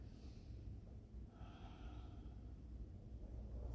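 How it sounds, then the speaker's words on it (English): Slow, deep breaths drawn and released during a yoga stretch, a soft steady airflow that swells in the middle of the stretch, close and quiet against a low room hum. "Let's take 2 more deep breaths here."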